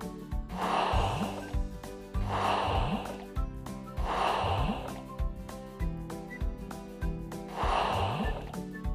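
A fuel pump in a kids' truck-building video game pumps in a steady rhythm, with four loud whooshing strokes about two seconds apart over bouncy background music as a pickup truck is refuelled.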